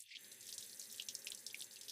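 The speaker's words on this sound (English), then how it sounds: "I wash the vegetables." Kitchen tap running as vegetables are washed under it, a steady close splashing stream with small drips and spatters, starting abruptly and continuing alone.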